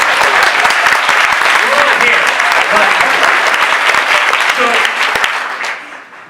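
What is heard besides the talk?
applause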